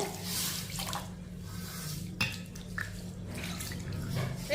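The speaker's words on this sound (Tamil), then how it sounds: "இப்போ இதில் தண்ணி ஊற்றிக்கிடுவோம்" Water is poured into a vessel of washed ragi grains, a soft continuous splashing and trickling with a few small knocks, fairly quiet and close.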